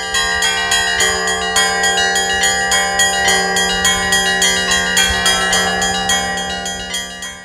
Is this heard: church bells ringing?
yes